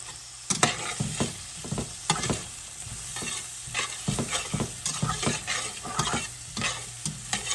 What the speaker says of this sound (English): It just gives a good flavor to the onions as they're caramelizing.